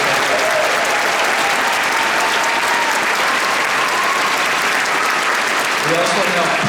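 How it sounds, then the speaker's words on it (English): In a conference center at a TubaChristmas concert, the audience gives the ushers a round of applause: dense, steady clapping from a large crowd that fills the whole stretch. "Can we get a round of applause?"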